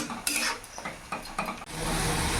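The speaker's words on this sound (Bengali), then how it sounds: "এবার মশলাটা ভালো করে কষিয়ে নেব" Spice paste for a soya and rohu fish curry is stir-fried in a pan, with quick close scrapes and clinks of a spoon over a soft sizzle that swells into a steady hiss at the end.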